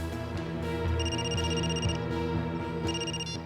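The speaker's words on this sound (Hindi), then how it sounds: "अभी अभी फोन आया" A telephone rings loudly with bright repeated electronic trills, two bursts of ringing separated by a short pause.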